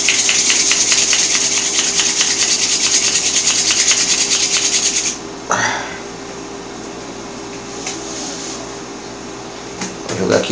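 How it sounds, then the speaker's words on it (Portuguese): A snapped cyalume glow stick, destined for a homemade glowing fishing float, is shaken hard in a fast, steady rattling rhythm for about five seconds, then stops, leaving a quieter background with faint scattered knocks. "Você vai pegar o cialume, vai quebrar no meio e vai sacudir"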